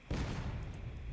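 Cannon fire in a Civil War battle video game, a single deep boom that rolls into a sustained low rumble lasting about a second, heard alone.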